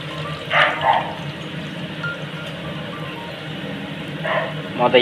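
A puppy behind a house lets out a few short, fairly distant barks near the start and again near the end, over a steady background with some talking.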